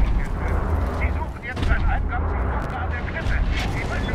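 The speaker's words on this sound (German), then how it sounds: "Du solltest lieber explodieren." A loud, sustained blast rumbles in the video game Wolfenstein: The New Order, heavy low booming throughout with game noise on top and someone talking over it.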